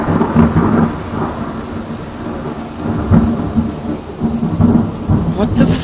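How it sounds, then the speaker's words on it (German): Heavy thunder rolls and rumbles through a thunderstorm, loud and close, over a steady wash of rain. Several booming swells rise and fall in turn, with no voices. "Wo schlagen die Blitze denn ein?"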